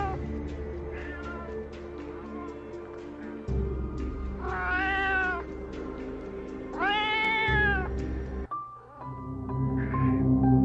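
A large black cat gives two drawn-out, wailing meows, loud and close, over a steady droning background with a few small clicks and a later fainter cry.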